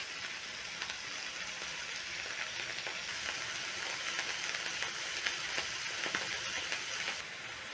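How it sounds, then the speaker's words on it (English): Meat browning in a big pan sizzles and crackles steadily throughout, a dense, even hiss of frying with small pops and no talk. "let the meat brown on all sides"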